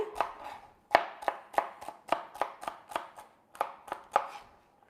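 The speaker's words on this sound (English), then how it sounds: "I just made it smaller dices by cutting the strip into 3" A knife chops celery strips into small dice on a board, about a dozen crisp, close knocks in an uneven rhythm with short pauses, each with a brief crunch, and no voices.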